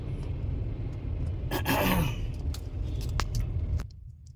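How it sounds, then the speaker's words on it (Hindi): Road traffic on a busy street, heard as a steady low rumble with a vehicle passing close by, then a few sharp rattles before it quietens near the end. "बहुत ट्रैफिक है।"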